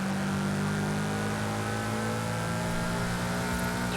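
A car engine in Forza Horizon 5 drones steadily at moderate revs, a loud close tonal hum with a layered whine above it, holding an even pitch throughout with no talk.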